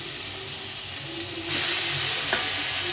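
Tender fresh greens drop into a pan of frying tomatoes, the low simmer jumping to a loud, bright hiss and sizzle halfway through, with a clink of a utensil after.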